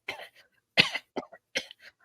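Dry, hacking coughs in short bursts, four sharp close coughs separated by brief silences, each with a faint rasping tail, no speech alongside.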